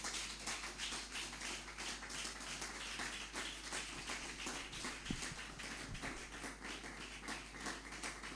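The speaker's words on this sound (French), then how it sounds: "Que quelqu'un acclame la parole de Dieu." A church congregation applauding the word of God, steady fast clapping from many hands filling the whole stretch, dense and continuous without pause.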